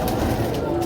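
Pigeons cooing at a fancier's loft, a brief soft low coo heard close amid light background noise.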